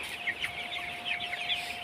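Broiler chickens on a small farm with a thatched house and fans overhead, clucking and chirping in a steady, moderately distant chorus that runs throughout the short stretch, with a faint constant hum underneath.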